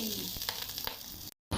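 Hot ghee poured over biryani rice makes a brief fizzing sizzle with a few soft clicks, then cuts to silence and returns for a moment at the end.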